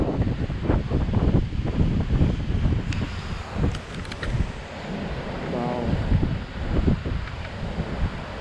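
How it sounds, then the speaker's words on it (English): Rough sea at a rocky beach in Japan, with waves crashing against rocks amid heavy, buffeting wind on the microphone; a continuous, rumbling roar with surging swells close by and no clear talk. "there's like the wave hitting the rock"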